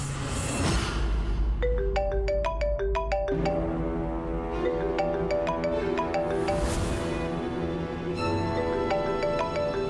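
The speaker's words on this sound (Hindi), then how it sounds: "ट्विंकल का फोन है।" A phone ringtone plays a bright, repeating electronic melody of chiming notes, loud and close, with no one talking over it.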